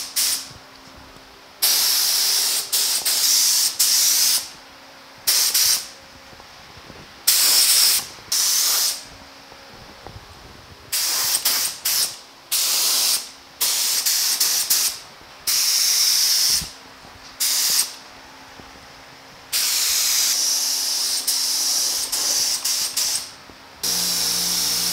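Repeated spray-gun bursts as a primer coat goes onto small parts of a 1950 Chevy truck, a couple dozen short and long hissing blasts separated by brief pauses, close and loud with no talk.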